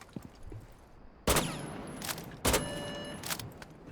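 Gunfire from a rifle fitted with a Compensator in Rainbow Six Siege: two loud, close bursts of rapid shots, each cut short and followed by shell tinkles and faint ringing tails.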